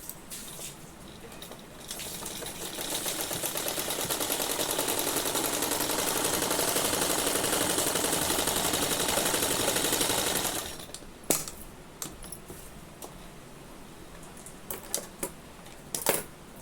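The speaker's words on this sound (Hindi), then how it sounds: "यहाँ पे हमारा थोड़ा सिलाई फिर से लगा लेते हैं" A sewing machine stitches a patiala salwar in one continuous, rapid, even whirring run of about eight seconds, followed by quieter handling clicks and taps.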